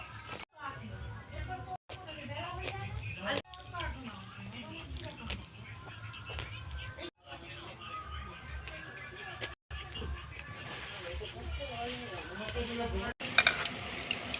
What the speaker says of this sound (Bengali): এখন মালপোয়া ভাজা হচ্ছে লুচি ভাজা হচ্ছে